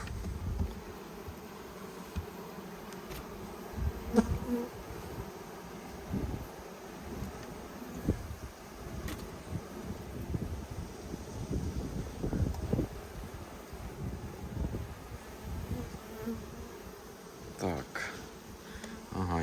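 Honey bees buzz continuously close by at a beekeeper's hive, a dense droning hum with individual insects flitting past the microphone, under light wind noise.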